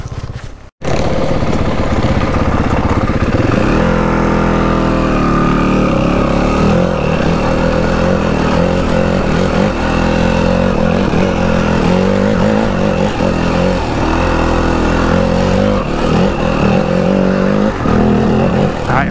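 A motorcycle engine pulls hard under steady throttle while the bike climbs a steep uphill section, a loud, close, continuous drone that wavers as the rider fights to keep the bike upright and the power on.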